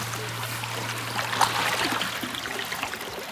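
Creek water flows close by in a steady, broadband rush and trickle with a low hum underneath, with no voices.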